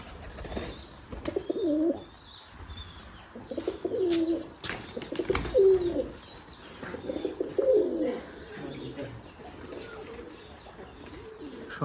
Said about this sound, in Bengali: সবই এগুলো রাজশাহী গিরিবাজ কবুতর ওরা দেখতে পাচ্ছেন সামনে